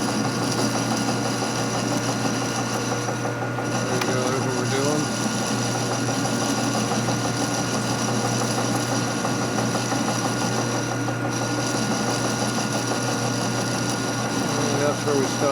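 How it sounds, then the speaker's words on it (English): Machining off the stripped thread of a rocker arm stand bolt on a 2020 Harley M8 engine, a steady whirring, buzzing tool drone running continuously at close range with brief mechanical scrapes. "Here's the last of the thread we're cutting off."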